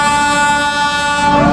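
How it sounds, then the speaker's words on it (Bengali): An old train pulls into a platform at Kamalapur railway station in Dhaka, its sustained horn ringing loud and steady over the low rumble of wheels and cars throughout. "একটি ট্রেন প্ল্যাটফর্মে প্রবেশ করতেছে"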